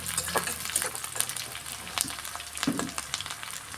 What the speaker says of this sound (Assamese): পিঁয়াজটো দিয়াৰ পিছত মই এতিয়া মাংসটো দি দিম।